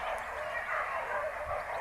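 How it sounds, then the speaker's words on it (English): Sled dogs waiting at a race start in Wales make a constant, fairly distant chorus of excited yips, whimpers and barks, blending into a busy layered din. "That's just sheer excitement from all of the dogs ready to run."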